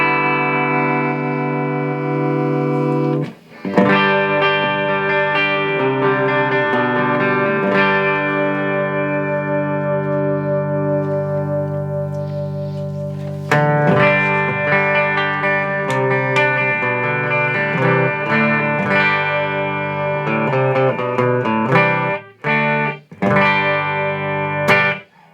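An overdriven electric guitar through a Line 6 Spider IV 30-watt amp's overdrive channel rings out with sustained, distorted chords and a few sharp strums, loud and close with reverb tails.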